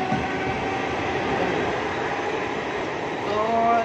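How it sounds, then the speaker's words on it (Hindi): A train passes in the distance, a continuous rolling rumble with a faint metallic squeal near the end and no clear talk. "वहाँ ट्रेन की आवाज आ रही है दूर"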